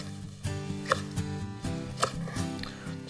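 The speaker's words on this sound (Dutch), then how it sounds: "Nu gaan we die paling in stukken snijden." Several sharp knife strikes chop through an eel on a board, cutting it into pieces through the bone, irregularly spaced, close up over a steady background hum.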